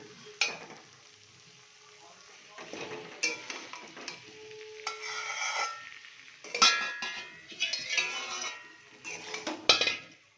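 Fried potatoes go into cooked-down masala in a pan and get stirred, bursts of sizzling alternating with metallic spatula clinks and scrapes against the pan, with short quiet gaps between strokes.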